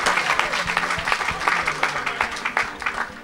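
A church congregation applauds during an evangelist's sermon, a dense, steady patter of many hands clapping with a faint crowd murmur underneath, lasting a few seconds.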